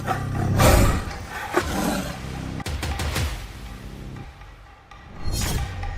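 A wild tiger roars in loud, rough bursts, close and heavy, with brief swells and gaps between them and no voices over the roars.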